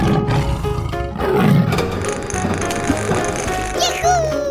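A tiger roars in a 3D animal slide video game, a short growling burst rising out of busy game music and sound effects, with no talking over it.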